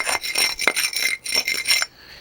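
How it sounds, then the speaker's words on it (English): A brick hammer scrapes old mortar off a brick during prep of a historic wall, a series of close, harsh rasping strokes in quick uneven rhythm that stop abruptly near the end. "Take a brick hammer, we clean it off."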